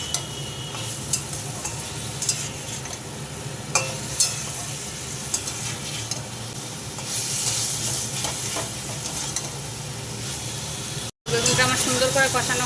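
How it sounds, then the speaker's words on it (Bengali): Eggplant and potato being stirred and fried in spice paste, a steady close sizzle with intermittent scraping strokes of the spoon against the pan, hiss swelling louder toward the end. "বেগুনটা আমার সুন্দর করে কষানো হয়ে গেছে"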